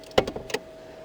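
A BMW 4 Series coupe's split rear seat folds down in a few quick mechanical clunks and clicks inside the car, then quiet.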